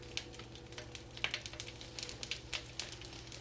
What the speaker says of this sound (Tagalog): nagprito na po tayo ng bread pusit